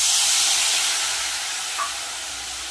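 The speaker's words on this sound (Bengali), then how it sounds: "তেলের মধ্যেই আমি দিয়ে দেব, আমি এখানে জিরে, হলুদ আর শুকনো লঙ্কা জল দিয়ে গুলে নিয়েছি।" Spice paste of cumin, turmeric and dried chili mixed with water hits hot oil, giving a broad, loud, steady hiss of sizzling that fades slightly toward the end.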